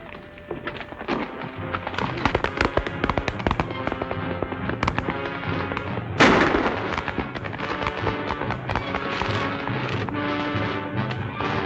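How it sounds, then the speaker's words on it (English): Dense volleys of gunfire in a 1940 Western film, sharp cracks over galloping horse hooves, loud and continuous with a heavier burst midway. "I've seen you do better shooting than that."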